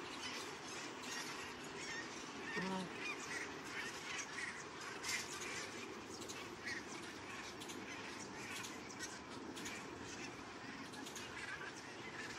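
A large flock of migrating wild geese in a nature park with nearby rice paddies calls steadily, overlapping honks forming a dense, continuous chorus at moderate distance with no clear pauses.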